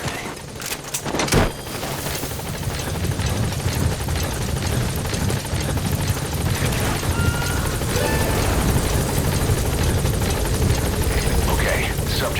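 A helicopter hovers near a landing zone in the game Metal Gear Solid V: The Phantom Pain, a loud, continuous rotor and engine roar that fills the whole stretch. Radio-style voices talk over it, and there are bursts of gunfire-like cracks early on.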